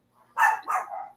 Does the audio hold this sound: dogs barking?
yes